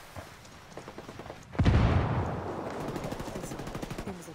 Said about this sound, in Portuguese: Estão atirando, estão atirando! Estão atirando em mim!